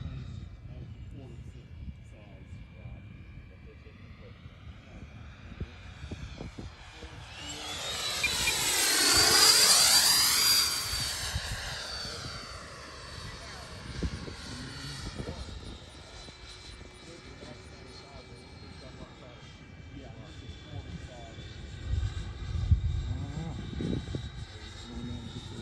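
A 105mm HSDJETS F-16 electric ducted fan jet on a 12S setup makes a flyby, its whine rising to a loud peak near the middle and then fading into the distance, with wind and a voice heard faintly underneath.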